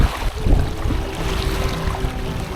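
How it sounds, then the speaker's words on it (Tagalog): A strong surge of rushing water flows near the Sierra Madre mountains in Gabaldon, a steady close roar of churning current that stays loud and continuous for the whole short stretch, with no talking. "malakas ang bugso ng tubig na rito."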